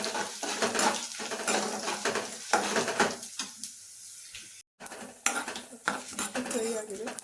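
Chana dal and urad dal frying in a pan, with a light sizzle beneath repeated clinks and scrapes of a metal spoon stirring against the pan, up close.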